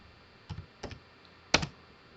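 A computer keyboard is typed on while entering a value in AutoCAD: three short bursts of soft, close clicks spaced about half a second apart, the last one louder, heard alone with no talking.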